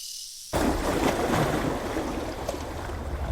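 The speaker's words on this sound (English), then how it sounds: "the rhythm slows to the hush of the waves and the rustle of the trees" Waves wash against a pebbled shore on Hydra in summer, a steady broadband surf hiss that swells in after a brief quiet start and holds loud and close, with faint rustle mixed in.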